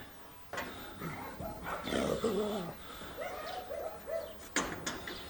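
Dogs bark a few times on a small farmstead, a sharp bark at the start and another near the end, with chirping birds and other animal calls in the background.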